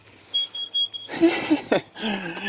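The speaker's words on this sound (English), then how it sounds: "that thing's going to keep beeping because I'm continuing to produce carbon monoxide" A carbon monoxide detector alarm sounds steady high-pitched electronic beeps in a regular pattern inside an RV, then rustling and clattering noises cut in over them.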